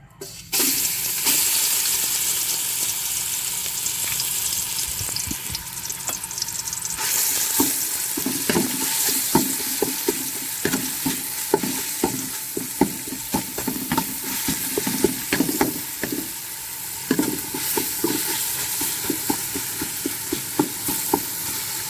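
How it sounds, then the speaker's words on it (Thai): Garlic, coriander root and pepper stir-fried over low heat in a pan, with a steady hiss and repeated scraping strokes of a spatula growing busier over time; no talking. "ผัดให้หอมก่อน"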